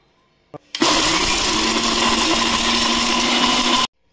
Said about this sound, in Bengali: টমেটো যে শুকিয়েছিলাম একদম শুকিয়ে কাঠ হয়ে গেছে, তো এবার এটাকে আমরা গ্রাইন্ড করে নিচ্ছি